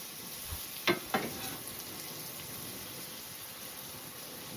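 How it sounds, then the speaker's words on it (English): Shrimp sizzle in butter and garlic powder on a griddle, a soft, steady frying hiss near the start with two sharp scrapes or clacks as they are pushed around, and no voices. "So we are right now cooking these shrimp in butter and garlic powder."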